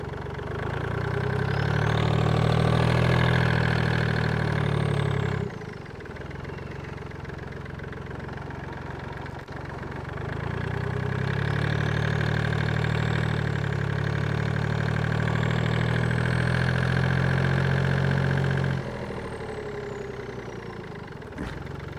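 Track T800CDI turbo diesel motorcycle engine running close by, a loud low rumbling drone that swells for several seconds, drops to a quieter idle, then builds again before easing off, with no speech.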